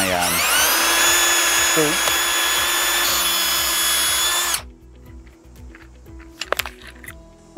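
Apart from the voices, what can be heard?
power drill drilling pilot hole with 3/16 bit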